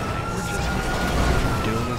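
Police car sirens wail in Grand Theft Auto V, a loud continuous electronic siren tone over steady traffic rumble, with no talking.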